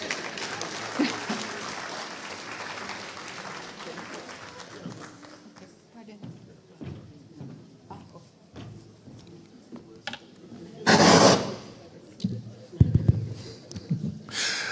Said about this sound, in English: Another round of applause for Mrs. Harriet, Mrs. Amiot.